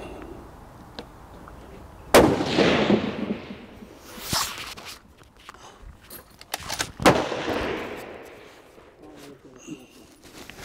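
Two sharp, loud gunshots fired at targets with a recoil-operated trigger, each a hard crack with a rolling echo that fades over a couple of seconds, the pair spaced about five seconds apart outdoors.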